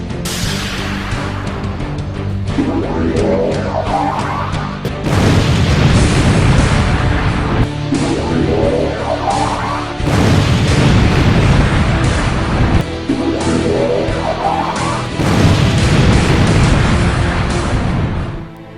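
Orbital strike beacon blasts in a video game come as a chain of heavy, roaring booms, each swelling into a long rumbling wash. The loud detonations overlap almost without pause.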